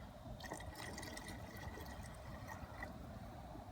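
Water is poured steadily into a Can Cooker pot already holding beef broth for goulash, a soft continuous splashing and filling sound at low level, with no talk.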